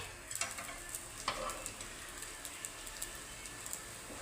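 Appe frying in an appe pan with a little oil, giving a soft, steady crackle with a few sharper pops, quiet and without voices.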